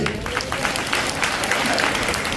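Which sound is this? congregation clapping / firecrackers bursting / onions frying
congregation clapping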